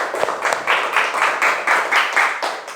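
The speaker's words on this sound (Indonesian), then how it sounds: "Tepuk tangan buat kelompok 2." Classroom audience clapping for a student group, a short burst of rhythmic, fairly loud claps repeating about twice a second, close by.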